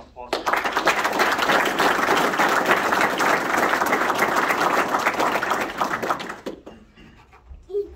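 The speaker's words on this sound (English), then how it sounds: "Can I get an applause?" An audience at a military promotion ceremony applauds in a dense, steady wash of clapping that runs for about six seconds, then stops abruptly and leaves a quiet room with faint stirring.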